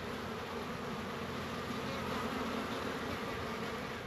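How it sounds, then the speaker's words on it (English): Dense, steady buzzing of many honeybees from a freshly arrived 3-pound package of bees, filling the air continuously at close range with no talking over it. "And there's a honeybee. And there's another honeybee."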